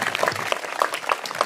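An audience claps at a school speech competition, a steady patter of many hands, fairly soft and continuous.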